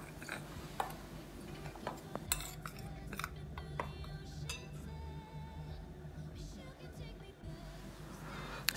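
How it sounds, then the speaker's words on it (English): Chips dough of flour and salt being mixed in a bowl, with a steady run of light ticking clinks from a utensil against the bowl, close and fairly quiet. "So I'm just going to combine it by mixing the ingredients together"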